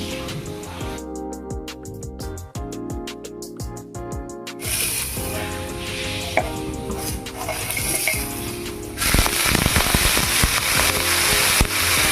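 Dry neem leaves frying in a pan with no oil while being stirred, giving a steady crackling sizzle that grows louder and denser toward the end, with no voices.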